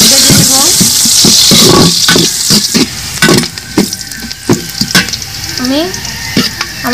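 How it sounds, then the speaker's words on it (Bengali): Bay leaves, cardamom, cinnamon and cloves frying in hot oil for chicken biryani, a loud close sizzle punctuated by repeated clinks and scrapes of a spatula, with a voice murmuring at times. "দুটো তেজপাতা, এলাচ, দারচিনি, লং, এগুলো একটু ভেজে নেব"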